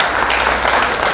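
Loud applause from an audience at an acting academy event welcoming celebrity guest Sharvari Jamenis; a brief, close, continuous wash of clapping filling the whole moment.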